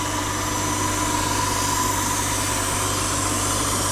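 A crankshaft grinding machine runs while a crank pin big end is ground to size, making a constant mechanical hum with a steady tonal whine and a faint grinding hiss, even and unbroken.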